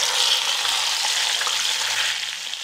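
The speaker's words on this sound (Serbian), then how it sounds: "Ulje se dobro zagrejalo i sada spuštam meso na vrelo ulje." Pork meat is lowered into hot oil and sets off a loud, dense, continuous sizzle up close that holds steady for the whole moment.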